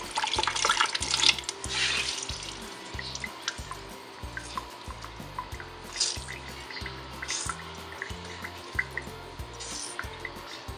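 Makeup brushes rinsed under a running tap into a sink, a steady rush of water with splashing and small drips, close and continuous, with no talking.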